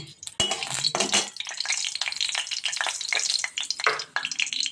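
Whole garam masala spices crackle and sizzle in hot oil in a kadai, with a dense, steady frying hiss broken by a few louder clattering stirs up close.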